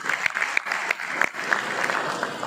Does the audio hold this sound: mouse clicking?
no